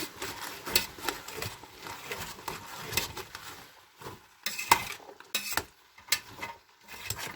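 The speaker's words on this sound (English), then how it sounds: "I'm going to go and give it a quick stir" A utensil stirs chopped parsley in a pan for chicken soup, with repeated scraping, clinking and tapping against the metal in an irregular rhythm, close and fairly quiet with no talk.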